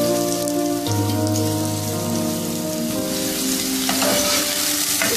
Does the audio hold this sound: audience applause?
no